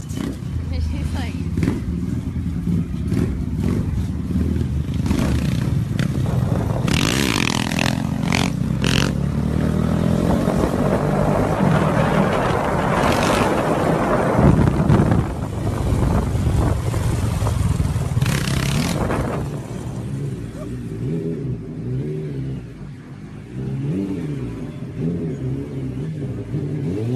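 A motorbike rides past with engine roar and revving throughout, accompanied by scraping and clattering. Voices talk over the engine noise, which fades toward the end.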